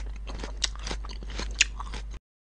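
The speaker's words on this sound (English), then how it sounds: "Dogs chew everything." A dog chewing, with close, irregular crunching and gnawing bites over a low steady hum, two sharper crunches standing out.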